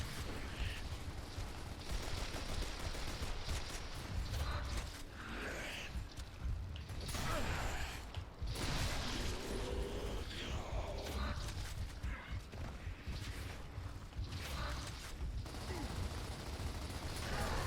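Gunfire in a video game shooter rattles in dense, repeated bursts over a busy, loud background of mechanical game effects, sustained throughout with no clear pauses.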